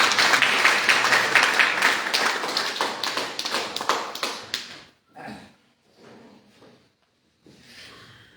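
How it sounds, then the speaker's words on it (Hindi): An audience at a Hindi poetry recital in Lucknow breaks into loud, dense clapping that carries on for several seconds, then thins out into a few scattered claps and fades. "एक बार सब दादा की जोरदार तालियां हम लोग"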